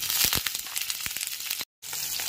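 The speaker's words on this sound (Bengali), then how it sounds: "গ্যাসের ফ্লেমটা হাইতে করে তেলটা খুব ভালো করে গরম করে নিলাম। এরপর এতে পনিরের টুকরোগুলোকে দিয়ে দিচ্ছি।" Paneer pieces drop into very hot refined oil in a pan over a high gas flame, giving crackling sizzles with sharp pops up close, broken by a brief dead silence near the end.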